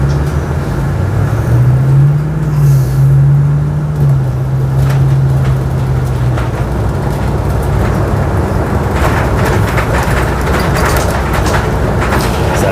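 Transperth bus on route 233 between Cockburn Central and Gosnells Station in Perth, heard from inside as a steady engine drone with a rising and falling gear whine, then road rumble and rattles as it travels.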